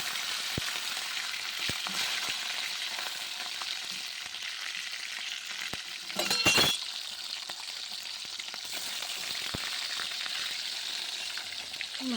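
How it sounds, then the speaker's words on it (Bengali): Rohu fish pieces fry in hot oil in a kadai, a steady soft sizzle running throughout with a few faint clinks and one brief louder crackle burst midway. "একে একে মাছগুলো ভেজে নেব।"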